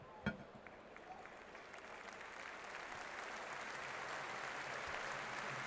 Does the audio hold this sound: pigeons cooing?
no